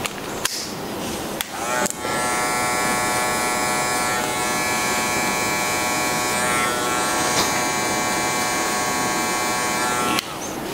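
Electric hair clippers with a number 1 guard cut hair during a modern mullet haircut, giving a steady, close, high buzzing hum that runs for about eight seconds after a few brief clicks at the start.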